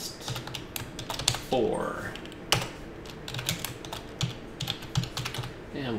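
Keys clatter as a command is typed on a computer keyboard, irregular close clicks with one louder keystroke, while someone talks briefly over it.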